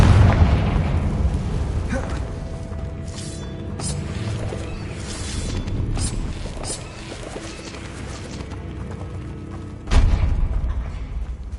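In Hogwarts Legacy, a fiery Confringo spell bursts with booming, crackling blasts over a steady game backdrop, ending in one sudden, loud, close explosion near the end.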